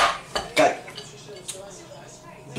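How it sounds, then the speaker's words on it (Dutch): Cutlery and dishes clink and clatter as they are set down on a table after a meal of bami, a few sharp knocks early on followed by softer scattered taps, close by. "bestek ik altijd apart neer"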